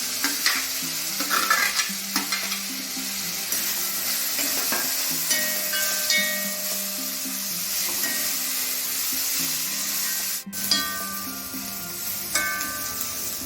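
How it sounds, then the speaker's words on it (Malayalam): Crushed garlic, ginger, a large onion and small shallots sauté in hot oil in a pan for a Kerala masala curry, a steady close sizzle with the scrape and clatter of a spoon stirring throughout and a sharp knock partway through. "1 ടീസ്പൂൺ വെളുത്തുള്ളി ചതച്ചതും 1 ടീസ്പൂൺ ഇഞ്ചി ചതച്ചതും, പിന്നെ വലിയൊരു സവാള, 5-6 ചെറിയുള്ളി എല്ലാം കൂടെ ഒരുമിച്ച് ചേർത്ത് നമുക്ക് മൂപ്പിക്കാം"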